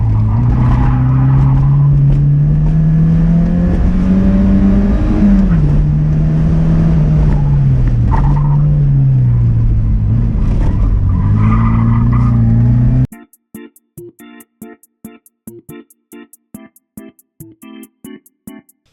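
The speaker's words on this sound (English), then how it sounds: "I decided I was going to try to do a 2-3 upshift." A cheap old Porsche on a race track roars loudly at steady engine pitch, with revs rising and dipping through shifts, then the engine note cuts off into sparse clicking and tapping.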